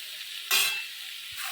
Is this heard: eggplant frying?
yes